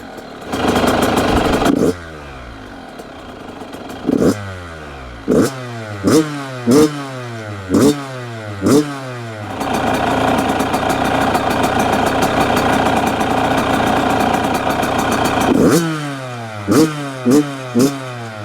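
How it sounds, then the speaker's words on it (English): A brand new Yamaha YZ85 two-stroke dirt bike, running rich and fouling plugs, starts from a kickstart and idles. Then comes a loud, close series of sharp throttle blips, with a sustained rev in the middle and more blips after it. "And wow, it actually did start without touching the throttle."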